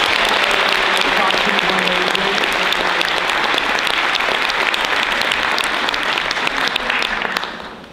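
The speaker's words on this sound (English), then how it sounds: "Can we give them a big round of applause?" A large crowd at a school Christmas show claps loudly and steadily for several seconds, the applause thinning and fading out at the end.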